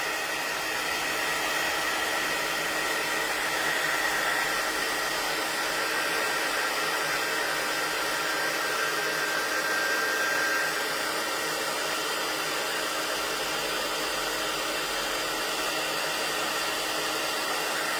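Steady, loud hiss of a heat tool blowing hot air onto vellum during a card-making craft session, a continuous broadband rush with a faint whine that holds unbroken and alone throughout.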